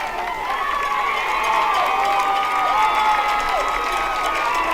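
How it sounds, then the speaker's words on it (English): Home crowd at a CHS Spartans high school football game cheering and shouting steadily, a broad roar of voices with whoops rising above it, moderately loud throughout. "The Spartan crowd is getting fired up."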